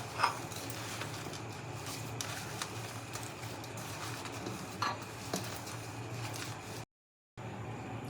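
Mango pickle pieces mixed by hand in a bowl with Kashmiri red chili powder, salt and turmeric, giving soft, close scraping and patting sounds at a steady pace with a few sharper clinks and a brief silent gap near the end.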